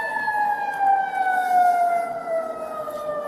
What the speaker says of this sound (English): Hey, you hear the sirens, right? You hear them? They're coming